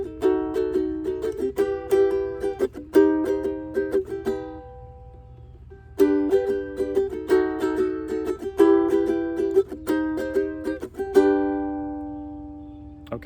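Ukulele strumming in a down-down-up-up-down-up pattern for a song. Steady, bright chord strums sound close and clear, played in two runs with a short pause between and a final chord left ringing.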